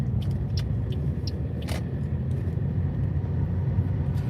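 Car driving around town along streets lined with shops, a steady low engine and road rumble heard from inside the vehicle, with faint brief clicks and hisses and no talking.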